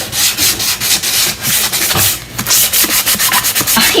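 Light hand sanding scuffs the glossy finish off a painted piece of furniture, a steady run of quick, rhythmic rasping strokes, close and fairly loud with no talking.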